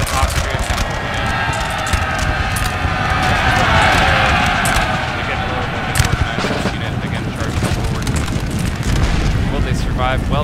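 Cannon fire and explosions in a Napoleon Total War battle, dense overlapping booms and crackling musket volleys rolling continuously, loud and busy, with a commentator talking over the din.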